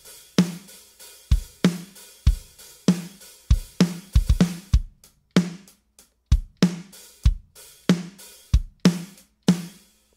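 Essential-line B52A drum sample from the MLDrums library played in a groove, with sharp kick and snare hits repeating in a steady rhythm, loud and dry, with no talking.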